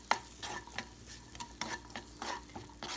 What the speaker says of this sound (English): It's kind of like sizzling already.